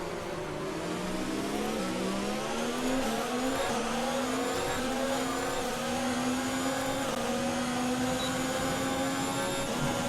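Ferrari Formula 1 power plant in the F1 2019 game, Canada circuit, screaming as it climbs through the revs, pitch rising steadily with a short dip at a gear change, loud, close and continuous with no talk.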